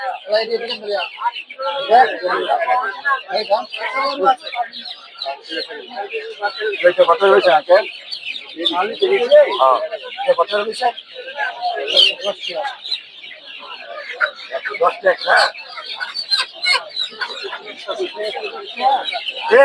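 Many chickens and chicks, including tiger chicks and turkey chicks, cluck and cheep continuously at a busy, crowded poultry market in Narsingdi, Bangladesh, a dense overlapping chorus of bird calls close by.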